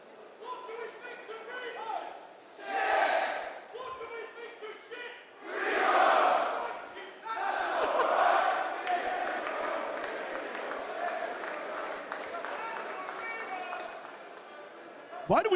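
An esports arena crowd at the 2024 Counter-Strike Manchester Major quarterfinal, FURIA versus Team Liquid, roars in several loud cheering surges that swell and fade, with casters talking over and between them.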